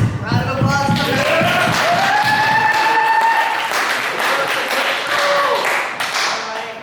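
Fencing match spectators clap for the gold fencer in a dense burst that fades over several seconds, with a few whoops and cheers rising above it and an announcer's amplified voice at the start.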